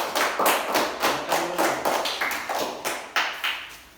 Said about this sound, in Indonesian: Oke, tepuk tangan untuk kelompok A.